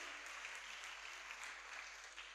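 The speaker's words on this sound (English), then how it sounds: "Clap the students and teachers." Applause for students and teachers at a kindergarten graduation at a preparatory school, a steady, continuous crowd clapping that sounds distant and very faint, with no talking over it.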